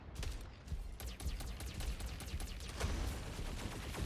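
Rapid, dense volleys of explosive impacts as homing missiles strike a mech in the video game Mech Arena, a continuous loud barrage of overlapping hits lasting several seconds, with no talking.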